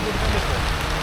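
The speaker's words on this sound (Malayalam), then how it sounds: "പ്രതീക്ഷിച്ചതുപോലെ തന്നെ അധികം താമസിക്കാണ്ട് മഴ സ്റ്റാർട്ട് ചെയ്തു" Rain falls on an open safari jeep in Gir forest, a dense, steady hiss of drops pattering close by with no break across the short stretch.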